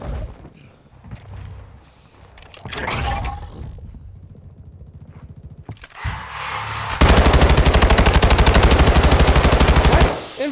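Gunfire against zombies in the video game Warzone: scattered shots and mechanical clatter come first, then a long, loud, rapid automatic burst hammers on for about three seconds before cutting off.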